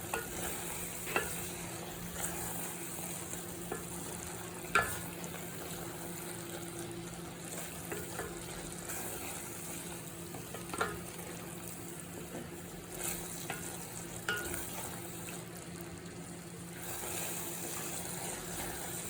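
Aviyal curry with curd is stirred in a pan. Soft scrapes and light clicks fall at irregular intervals over a faint, low, steady bubbling hiss, with no talk.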